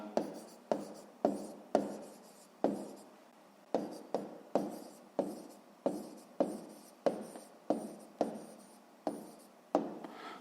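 Pen strokes scratch steadily across notebook paper while working a sixth-grade maths exercise on a square's area, roughly a dozen short close bursts in a regular rhythm with no talking.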